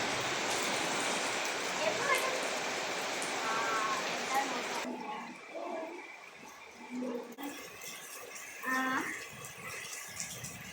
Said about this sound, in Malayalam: ഇന്ന് നല്ല മഴ.